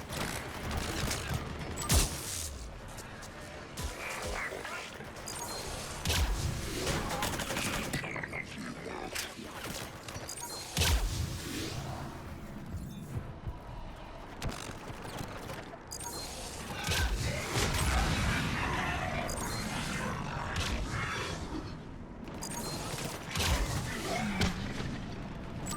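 Artillery and heavy weapons fire in the Mass Effect 3 final battle: a dense, chaotic wash of repeated blasts, crashes and mechanical clatter continues for the whole stretch, with no clear pauses.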